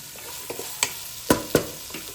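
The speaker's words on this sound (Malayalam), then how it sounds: "പാത്രം വെച്ചു പിന്നെ ഇതിലേക്ക് എണ്ണയിട്ട് ഉള്ളി ഇട്ടു ഉള്ളി ഇട്ടൊന്ന് നന്നായിട്ടൊന്ന് വഴറ്റണം" Onions sauté in hot oil in a pot, a steady soft sizzle broken by several sharp scrapes and clinks of a spoon stirring, close by and without talk.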